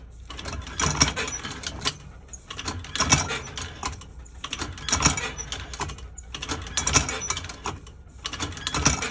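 An antique mid-1800s hand printing press with inked rollers clanks and ratchets as its mechanism turns and catches, repeated bursts of metallic clicks and grinding rising and falling in an uneven rhythm, close and moderately loud.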